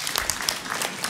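An audience at a mayor's New Year address in Palaiseau, France, breaks into applause. The clapping is a short, dense burst of about a second, fairly close and steady.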